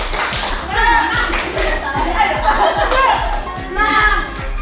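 A group claps along in a steady rhythmic clap chant at a school gathering, sharp regular claps repeating roughly every third of a second, with voices chanting and some chatter and laughter mixed in throughout.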